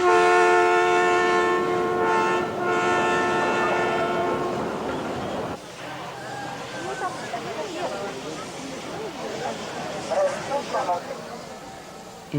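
Veteran steam-era locomotive working the Devil's Nose switchbacks in the mountains of Ecuador, a steady horn-like tone and heavy rumble sounding first, then clanking, hissing and rolling noise, with a narrator talking over it.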